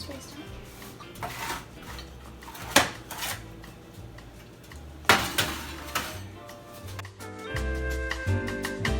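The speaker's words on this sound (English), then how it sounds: "So I'm gonna stick my one sheet in the oven" One baking sheet of cake mix cookies is slid into the oven with clattering metal knocks and clinks, a few sharp bangs, and a door or rack shutting near the end, as a voice talks over it.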